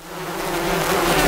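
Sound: bee buzzing

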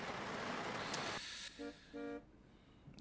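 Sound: car horn honking in a video game

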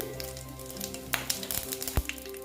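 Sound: tempering spices sizzling in hot oil

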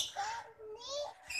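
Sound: bird chirping

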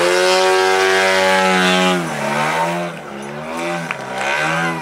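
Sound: model airplane engine hovering on propeller

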